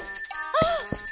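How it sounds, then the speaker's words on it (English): A cartoon bell rings at a playground: a short, bright metallic ring with a sweeping tone, followed by a second quick strike, loud and close, with no talking. "Don't ring the bell too much! It will bother other people!"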